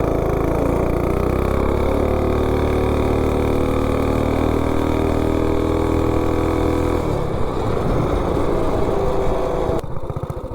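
A Coleman B200 mini bike with a 196 Juggernaut engine, header pipe and VM22 carb revs hard close by, a loud steady droning whine that drops and roughens near the end before cutting off.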